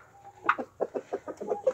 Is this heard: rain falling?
no